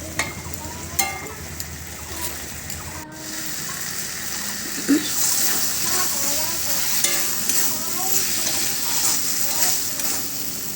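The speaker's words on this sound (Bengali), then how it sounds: "দেখুন ঝোলটা ফুটতে শুরু করেছে" Paneer curry gravy bubbling and sizzling in a pan, a steady close frying hiss with occasional stirring scrapes and soft bubbling pops throughout.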